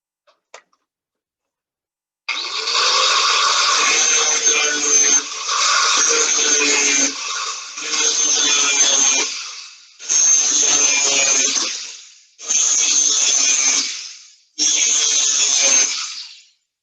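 A metal tool edge is sharpened on a grinding wheel, with six steady, loud grinding passes of about two seconds each, separated by brief pauses, after a faint tap at the start.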